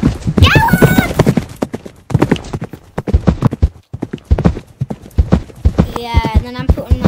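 Horses walking with hooves clip-clopping in a steady rhythm, close by, while people talk over them and a horse whinnies briefly near the end.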